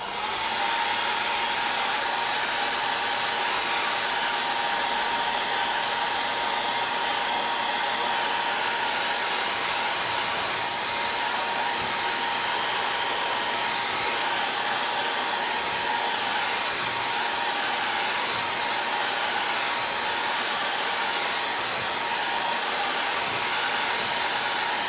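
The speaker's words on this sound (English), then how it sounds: "I'm going to blow dry this" A hair dryer blows steadily and loudly at close range for the whole stretch, drying a handmade holiday card, with a constant even whir and no talking.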